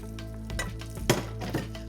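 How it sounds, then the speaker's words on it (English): Cooked rice dumped into a hot pan turned up to high, with sizzling and a few soft scraping stirs over about two seconds, fairly close and moderate in level, no voices. "Then I'll turn this up to high just to saute it a little bit."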